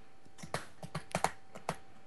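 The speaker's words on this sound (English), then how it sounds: "I was typing." Fingers tap out a short, uneven burst of keystrokes on a computer keyboard, crisp close clicks spaced irregularly over about two seconds.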